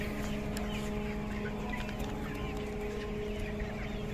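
A healthy, active 50-day-old Golden Mix hen clucks softly and faintly against a steady hum of farm background noise.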